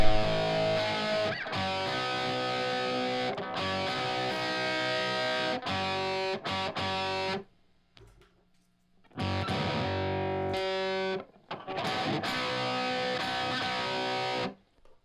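An instrument played through a reverb effect, giving loud, distorted and heavily processed tones in long sustained passages, broken by brief silent pauses, with no talking.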